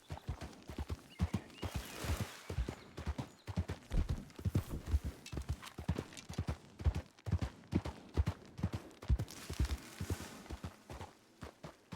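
Horse hooves clip-clop steadily in a medieval role-playing video game, a quick, even run of close hoofbeats that carries on for the whole stretch with no voices.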